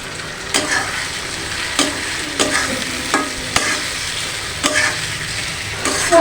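Fried prawns and frying onions stirred in a pan, with a steady sizzle under repeated scraping strokes of a spatula at an even rhythm, close and fairly loud, with no talk.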